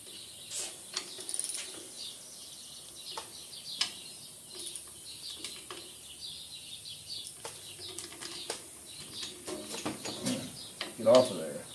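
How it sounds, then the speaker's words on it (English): A 3/8-inch ratchet is worked in short bursts of clicking during an emergency repair of a Bolens tube-frame rototiller, sounding close but fairly quiet, with brief voices and some chirping nearby. "you want to get me a 3/8 ratchet?"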